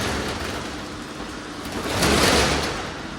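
Heavy monsoon rain roars in a steady wash of noise that swells louder partway through before easing slightly, with no voices heard.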